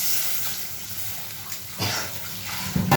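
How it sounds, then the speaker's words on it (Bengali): Water poured into a pan of cooked-down spices for a pomfret fish curry, a soft steady hiss and gush that swells briefly near the end with a light splash. "কষানো হয়ে গেছে, জল দিয়ে দিচ্ছি।"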